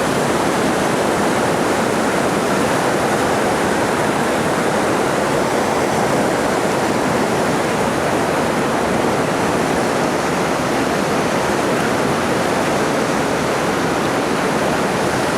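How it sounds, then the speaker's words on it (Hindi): A glacier-fed mountain stream, Kargah Nala in Gilgit-Baltistan, rushes with a loud, steady, broadband roar of churning water, close and unbroken throughout with no voices. "ये नाला कहीं ऊपर से पहाड़ों से ग्लेशियर पिघल पिघल कर आते हैं"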